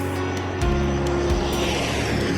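An airplane lands at Adana, a steady engine drone with a rising roar partway through, loud and near, used as an animated film sound effect.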